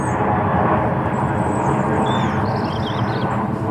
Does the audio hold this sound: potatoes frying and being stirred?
no